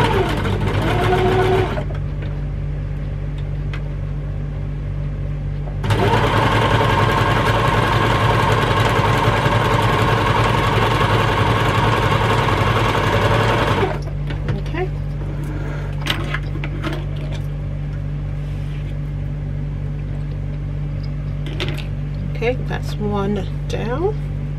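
Home sewing machine stitching a quarter-inch seam on beginner quilt star-block fabric, a steady close whirring run of about eight seconds over a constant low hum, with handling clicks and rustles around it.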